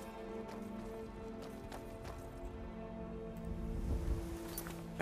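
A horse in the video game Skyrim gallops away, with quick rhythmic hoofbeats that stay fairly faint over a steady background ambience and grow briefly louder near the end.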